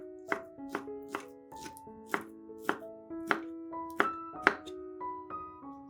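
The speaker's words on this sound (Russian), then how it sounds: "50 грамм колбасы нарезаем кубиками" A knife dices sausage into cubes on a cutting board, about a dozen crisp, evenly spaced strikes, with soft tonal music playing underneath.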